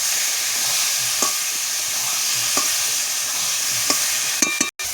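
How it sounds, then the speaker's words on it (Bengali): A ridge gourd and potato mixture sizzles steadily in a frying pan while a spatula stirs it, with soft periodic scrapes about every second and a brief clatter near the end; no one speaks. "আর ঝিঙেটা দিয়ে আরও নেড়ে নিচ্ছি।"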